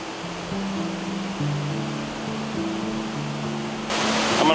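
Roaring waterfall at Twin Falls in Rock Island State Park running at high water, a steady loud broadband rush throughout that swells louder near the end, with faint tonal hum underneath and no talk.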